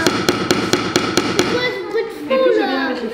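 A hammer strikes a nail in a run of seven sharp, evenly spaced metallic blows, ringing clearly up close, before the tapping stops and a voice begins speaking.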